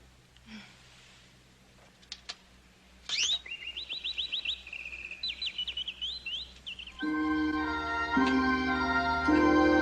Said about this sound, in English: Bird not strong enough to fly away. In cage, bird safe.